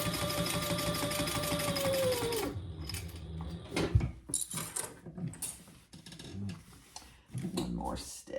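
A sewing machine stitches across the bottom of a clutch wallet in a quick whirring run that stops after a couple of seconds, followed by soft ticks, clicks and handling noises near the mic while a voice talks.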